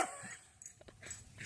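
A pet bird mimics a dog's bark, giving faint, brief yips and whimper-like calls spread across a short, quiet moment.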